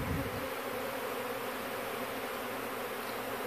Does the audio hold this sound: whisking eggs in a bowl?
no